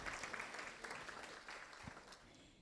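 Banquet audience at a Christian counseling center dinner applauding flower arrangement sponsors, a faint, dense patter of many hands from across the room that gradually thins and fades toward the end.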